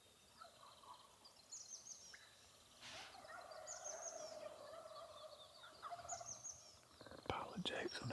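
Distant wild turkeys gobble in repeated rattling calls, faint but clear over quiet outdoor background, with a few louder knocks near the end.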